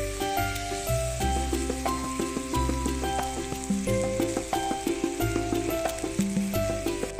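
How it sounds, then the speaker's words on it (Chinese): Meat fries in a hot clay pot for Korean doenjang soup, with a steady crackling sizzle running underneath prominent background music with clear melodic and bass notes. "热砂锅放入肉，两面煎至出油"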